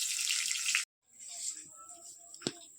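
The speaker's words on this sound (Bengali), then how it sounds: "জলটা দিয়ে দিলাম" Water pours into masoor lentils in a pot with a bright, steady splashing rush for under a second, then stops abruptly, leaving faint drips and a soft clink.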